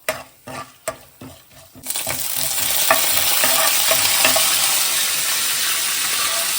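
Dried chili, mustard seeds, cumin and fenugreek hit hot oil for a mango dal tempering, a few sharp crackles and taps giving way to a loud, steady sizzle that fills the rest of the moment up close, with no talk.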